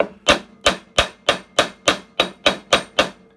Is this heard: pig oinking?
no